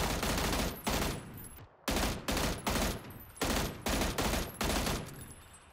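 Rapid bursts of automatic rifle fire from an M16 and Mutant in the shooter game PUBG, loud and close, in repeated short volleys with brief gaps between them, no talking.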